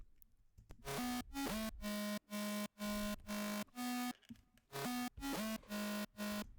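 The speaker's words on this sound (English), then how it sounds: "I found random melody without processing. It sounds like this." A bright synth plays a catchy melody of short, evenly spaced notes with clean, unprocessed tone, repeating its phrase after a brief pause.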